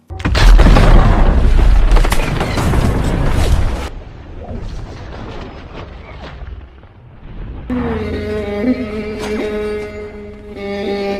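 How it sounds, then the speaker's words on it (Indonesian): A landmine explodes in a detective action film: a loud, sustained boom with rumbling debris fills the first few seconds, then fades into quieter rumble and swelling orchestral music. "tak sengaja menginjak ranjau yang membuat mereka bertiga harus terkena ledakan"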